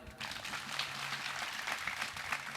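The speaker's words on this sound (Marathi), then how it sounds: "टाळ्या वाजवून एकदा" Marathi stage audience clapping during a live song performance, a dense sustained patter of many hands throughout, fairly loud with faint background music beneath.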